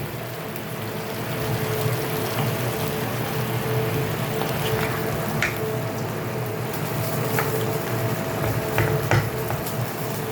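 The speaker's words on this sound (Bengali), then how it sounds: "খোসা হলেও তো সেটা সেদ্ধ হতে হয়, কাঁচা কাঁচা তো আর খাওয়া যায় না, তাই সেদ্ধ হওয়ার জন্য জল দিয়ে দিলাম" Vegetable peels simmering in water in a pan, a steady bubbling sizzle with occasional small pops and spatters, moderately loud and continuous, no voices present.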